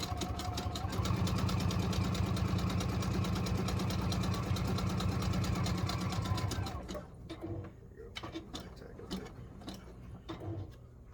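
A Juki DX-2000 QVP sewing machine stitches the perimeter of a quilt in a fast, steady mechanical whir for about six seconds, then stops, leaving soft handling clicks and rustles.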